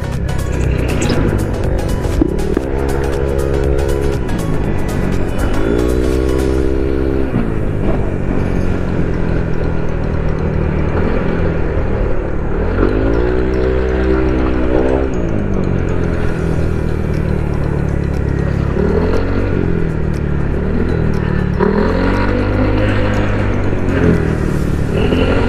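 A motorcycle fitted with a JVT titanium CVT set and modified muffler, its engine revving up repeatedly in rising sweeps, loud and close, with a rough steady idle between throttle pulls.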